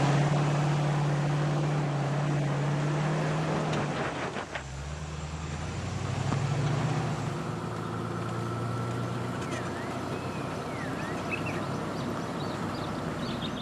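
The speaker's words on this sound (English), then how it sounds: "Listen carefully to the engine revs and the timing of the application of power." A 4x4 engine drones and revs unevenly while climbing a hill slope, with a pitch drop midway as power is eased, loud and close with outdoor background noise.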